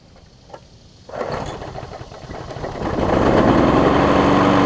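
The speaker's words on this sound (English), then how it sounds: "let me give it a final start for y'all" An old 5 hp Briggs & Stratton engine on a Weed Eater lawn mower deck sputters to life with a sudden roar, then settles and revs up into a loud, steady drone, close to the listener.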